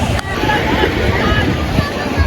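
Sea waves wash onto White Beach at Puerto Galera, Oriental Mindoro, on a busy afternoon, a continuous close surf hiss mixed with wind buffeting the microphone.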